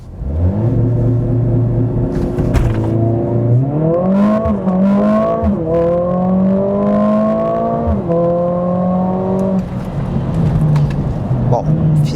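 Mercedes-AMG CLA 45 in Sport Plus mode launching hard from a standstill to 100 km/h, its engine rising in pitch through several quick upshifts, loud and close throughout, with a voice speaking over the run.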